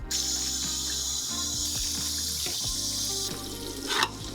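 Semi-hot water pours steadily from a tap into a bowl of rice, a continuous splashing rush with a louder gush near the end.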